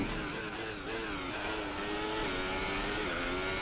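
F1 car engine from the F1 2018 racing game at Bahrain, revving high and steady with pitch rising and dipping through gear changes, loud and continuous throughout.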